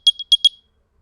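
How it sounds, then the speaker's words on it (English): AirPods Pro 2nd gen earbuds play their Find My locating sound: four quick, loud, high-pitched chirps in an uneven pattern, then silence. "So I'm going to play the sound, and it's loud."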